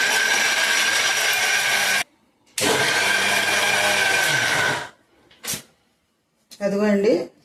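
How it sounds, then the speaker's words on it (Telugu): An electric mixer grinder blending soaked lentils with water and salt for pesarattu batter whirs loudly in two long bursts separated by a pause, followed by a brief pulse and a final short run. "వాటర్ పోసి మిక్సీ వేస్తాను."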